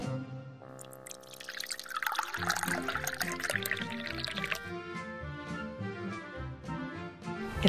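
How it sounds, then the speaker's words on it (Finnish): Hot water poured from a kettle into a pot while making pretend baby food in a children's doll play, a gurgling, rising splash and trickle that fills and rings as the vessel fills. "Kaadetaan kuumaa vettä kattilaan."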